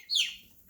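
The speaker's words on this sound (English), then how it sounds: "Come here, little baby bird." A baby chick gives a single short, high, bright chirp close by in a garage, followed by quiet.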